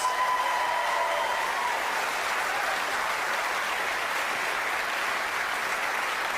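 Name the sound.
studio audience applause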